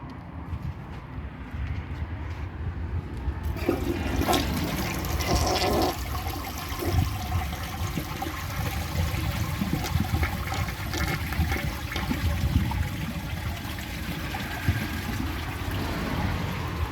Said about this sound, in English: it can't even flush at the water line with a little bit of water in the bowl